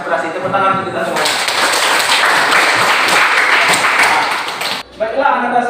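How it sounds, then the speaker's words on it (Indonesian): Children in a classroom clap their hands together in loud, dense applause for about four seconds, with a teacher speaking before and after. "Tepuk tangan untuk kita semua."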